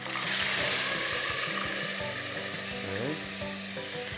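Pork chops fry loudly in a hot pan, with a dense, continuous crackling sizzle close by and no talking.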